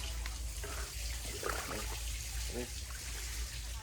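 Water trickles and splashes steadily into a biofloc fish pond in the background, with brief bursts of talk over it.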